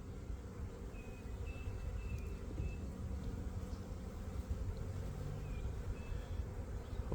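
Honey bees drone steadily at an opened hive, a dense, close, continuous buzz that holds for the whole stretch without pause.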